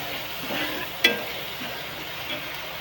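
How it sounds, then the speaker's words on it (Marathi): Tomato and onion sautéing in a pan, a soft steady sizzle with a brief sharp clink of a utensil partway through. "टोमॅटो चांगला परतून घ्यायचा कांद्यासोबत."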